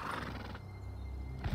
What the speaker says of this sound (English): We'll get on our super fast horse and get our happy butts over there.